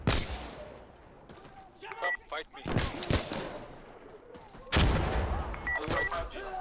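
Gunfire in the shooter game Insurgency Sandstorm, with several loud sharp shots and short bursts scattered between talk.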